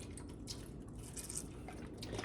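Plant-based heavy whipping cream pours into a pan, a soft, steady liquid trickle with faint drips, close by and quiet, with no talking.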